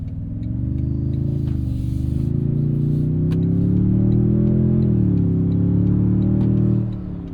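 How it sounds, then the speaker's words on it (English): A 2026 Toyota Tundra TRD Pro twin-turbo engine, tuned to 466 hp, roars steadily through its intakes under acceleration, its deep harmonic drone rising and falling slightly before easing off at the end. "You can hear there a nice performance there from"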